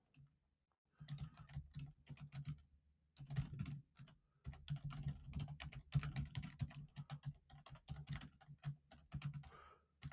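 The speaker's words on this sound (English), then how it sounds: "If I need to type the question in the chat," Someone types a question into a chat on a computer keyboard, quiet close key clicks coming in irregular bursts with brief pauses between them and no talking.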